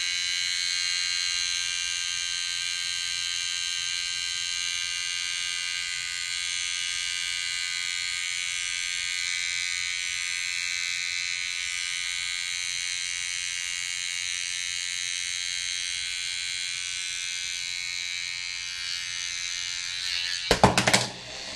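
Electric hair clippers buzz steadily and close during a home haircut, holding a constant whine for about twenty seconds before a brief clatter of handling noise at the end.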